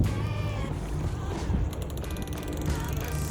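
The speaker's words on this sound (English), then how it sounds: "reversing back with the engines" Twin boat engines reversing while a sailboat settles onto its anchor bridle, heard as a steady low rumble with wind noise throughout and no talking.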